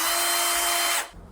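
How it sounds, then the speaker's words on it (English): A power drill bores holes into the wooden top of a handmade fantasy golf bag, whining at a steady, high pitch before abruptly spinning down and stopping. "I need to drill some holes in the top here"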